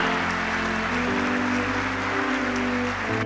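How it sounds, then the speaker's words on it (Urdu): Audience applause at a youth laptop scheme ceremony in Pakistan, honouring a top recipient, a steady dense clatter of many hands filling the hall throughout, with a low hum underneath and no talk. "خواتین و حضرات، آپ کے لیے بھرپور تالیاں"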